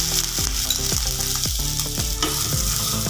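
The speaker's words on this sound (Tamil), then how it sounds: "தேங்காவோட ஈரத்தன்மை போகிறது எழுதி நல்லா வறுத்துக்கலாம்." Half a cup of grated coconut roasts in ghee, giving a continuous crackling sizzle under a quick, rhythmic run of spatula strokes scraping the pan, close and fairly loud with no voices.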